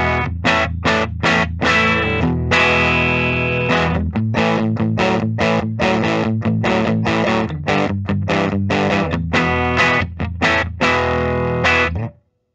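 A Les Paul Custom electric guitar on the bridge pickup, rolled down and played through an overdriven Deluxe Reverb amp, plays distorted chords in a steady rhythm with sharp strums and short gaps, loud and close, with no talking.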